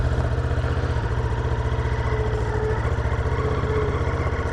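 A Ducati Multistrada V2S motorcycle's twin-cylinder engine runs steadily up close, a deep, even throbbing rumble with a faint mechanical clatter, heard alone without talk.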